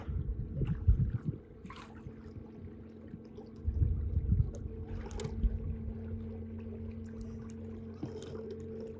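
Boat propeller fitted with an HT Marine prop nut spinning in water, low churning and splashing swells in a couple of surges over a steady mechanical hum, moderately quiet.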